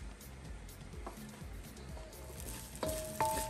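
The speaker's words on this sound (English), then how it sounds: "So the first for the stir fry is garlic. It's frying." Soft sizzling of garlic and onions frying in a pan, with occasional scraping stirs and light clinks of a spoon against the pan, up close.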